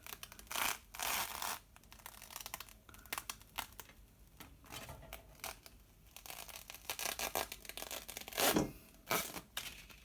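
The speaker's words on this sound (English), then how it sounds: "I'll just peel that off." Homemade apple plum fruit leather is peeled off a drying sheet with soft crinkling, sticky tearing and rubbing sounds in irregular bursts, close and quiet.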